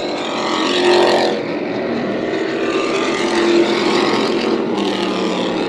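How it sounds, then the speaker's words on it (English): Race cars at Irwindale Speedway, a loud sustained engine roar swelling and fading as cars pass on the track, continuous over nearly six seconds with no talk. "Gordon right now going for the track record here at Irwindale Speedway"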